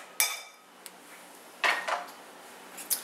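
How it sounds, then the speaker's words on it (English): Onions and tomatoes land in a salad bowl with a few sharp clattering hits, three main impacts spaced about a second or more apart, close and fairly quiet against a silent background. "then we take our onions, and then we take our tomatoes and dump them in there"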